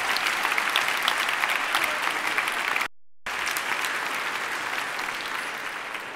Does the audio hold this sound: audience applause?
yes